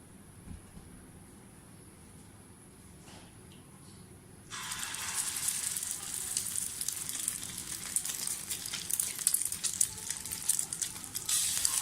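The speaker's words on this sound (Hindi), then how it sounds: "मैं तवे पे, नॉनस्टिक तवे पर आज इसे शैलो फ्राई करूँगी" Mutton shami kababs shallow frying on a nonstick tawa: a quiet steady hiss that jumps to a loud, dense, crackling sizzle partway through and stays strong to the end, with no talking.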